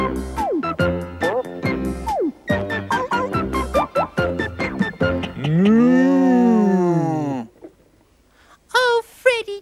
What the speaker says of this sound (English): you stay in the field, you cows!